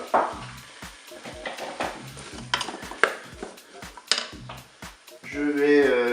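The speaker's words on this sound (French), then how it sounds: "Je vais mettre les pommes de terre dans la cuve." Potatoes are tipped into the pot of a Cookeo cooker, giving a series of hard knocks and clatters against the metal bowl, followed by a brief sizzling hiss at the end.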